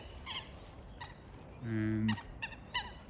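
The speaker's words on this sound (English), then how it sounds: "lots of happy and noisy ducks, etc. here" Ducks in Home Park at Hampton Court call out in several short, nasal squawks, with one longer honking call in the middle. The calls are moderately close, over soft outdoor background noise.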